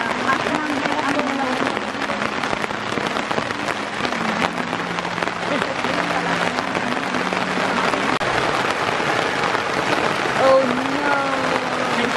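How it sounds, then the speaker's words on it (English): Steady rain patters and crackles on a surface throughout at a beach campsite in Baisha, Taiwan, with voices talking and a faint tune underneath. "It's raining."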